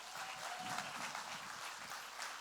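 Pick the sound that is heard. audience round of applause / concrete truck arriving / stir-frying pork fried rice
audience round of applause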